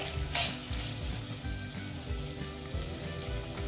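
Scallion whites and onion sautéing in a pan for ackee and saltfish, a soft steady sizzle with a brief clatter near the start, faint and close, no talking.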